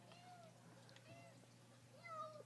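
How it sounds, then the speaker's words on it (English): A cat meows repeatedly from somewhere out of sight, thin wavering cries that are faint and distant over a low steady hum, with one louder, higher meow near the end. "I think the cat is behind the couch because that's where the meowing's coming from."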